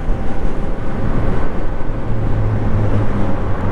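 A VMOTO Stash motorcycle running flat out at top speed, a steady loud roar of engine and rushing wind noise throughout with no talk.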